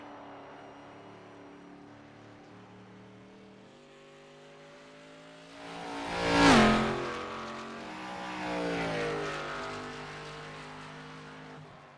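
Josh Battles' number 11 ARCA series race car laps New Hampshire Motor Speedway, its engine drone swelling to a loud pass-by and then fading with a falling pitch.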